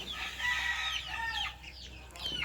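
LDT Gray game chickens from Spartan Game Farm clucking and calling nearby, a continuous mix of short squawks and chirps over steady low background noise.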